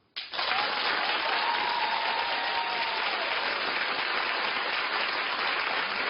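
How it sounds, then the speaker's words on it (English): Studio audience at a daytime television talk show breaks into loud, sustained applause that starts abruptly and holds steady as a dense wash of clapping for about six seconds. "Clap if you think she shouldn't have answered the phone."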